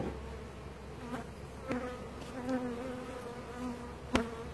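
Honey bees buzz faintly around an open hive during a honey harvest, a soft continuous hum with occasional individual bees droning closer past.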